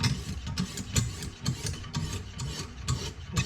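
A knife blade is drawn over a medium Lansky sharpening stone with oil, making repeated rhythmic rasping strokes about every half second, close and steady with no voices.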